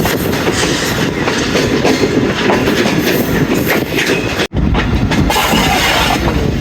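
The 12 Down Hazara Express, with new coaches, runs past after leaving Haveliyan station. The loud, close rumble and rhythmic wheel clatter continue without a break, apart from a split-second dropout.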